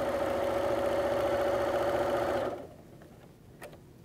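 A sewing machine stitches a pillowcase in one steady, fast whirring run of even loudness, then stops abruptly, leaving faint handling noise and a small click.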